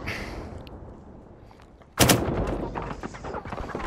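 Gunfire in the online shooter Firewall Zero Hour: a sudden loud burst of shots erupts halfway through after a quiet stretch, followed by ragged continuing fire and rumble.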